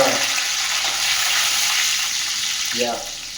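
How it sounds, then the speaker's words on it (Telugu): Chillies frying in a pan for a bachala kura rasam, a steady broadband sizzle throughout with a faint stirring scrape near the end, no voices. "మిర్చిని ఫ్రై చేయాలి."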